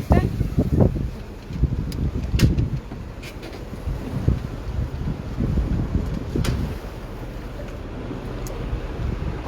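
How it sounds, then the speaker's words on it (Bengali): Strong gusting wind buffets a balcony in Dhaka ahead of a Kalbaishakhi storm, roaring in loud irregular bursts with rustling, while voices speak faintly underneath. "বাট আজকেরটা অনেক বাতাস"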